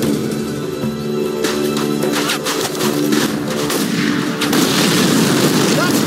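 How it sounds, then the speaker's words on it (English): Japanese artillery fires in the Battle for the Pacific video game during a Guadalcanal mission, heard as heavy booms and rumbling blasts over continuous loud battle noise. "Japanese artillery!"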